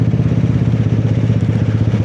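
A big bike motorcycle engine runs steadily up close with a dense, throbbing low rumble and rapid mechanical pulses, loud and continuous with no talk over it.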